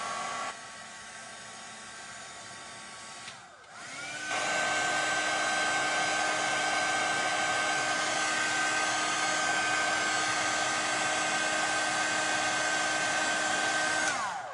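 A hair dryer blasts steadily at close range to dry a piece of artwork, briefly dropping off and then returning louder and holding an even, continuous whir with a constant whine, with no talking.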